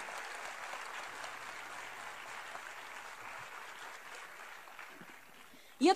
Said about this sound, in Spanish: pedimos un aplauso para toda esa gente que está mirando de casa